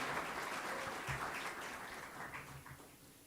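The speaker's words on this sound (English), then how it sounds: "the team deserves a round of applause" Audience applause at a charity awards evening for the team that raised a record campaign amount, a fairly quiet, steady wash of clapping that runs throughout without a break.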